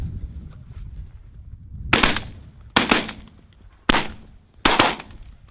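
Shotgun shots fired while hunting pigeons outdoors, four sharp loud blasts spaced roughly a second apart, each with a short decaying tail over low background rumble.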